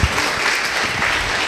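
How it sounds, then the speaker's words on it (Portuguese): A church congregation applauding together, a brief burst of loud, dense clapping heard up close that holds steady without letup. "Aplauda mais forte ao Espírito Santo de Deus."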